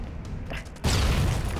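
Bombs going off in the pixel-art action game Broforce: game noise, then a sudden loud, booming explosion that swells into a sustained, rumbling blast.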